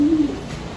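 Pigeons in a loft give a low, close cooing, with one steady coo standing out near the start and then fading into a quiet, soft room murmur.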